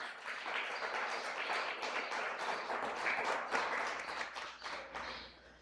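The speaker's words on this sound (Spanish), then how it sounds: "Un fuerte aplauso al Señor, mi amado hermano." A church congregation applauds for several seconds, a steady dense patter of many hands clapping at moderate volume with no voices over it.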